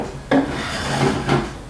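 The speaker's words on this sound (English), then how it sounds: "You basically want to slide this inside right here first." A wooden drawer of a Winsome Suzanne space-saver kitchen table slides into place with a steady scraping rub, two sharper knocks marking the start and finish, close and clear without talk.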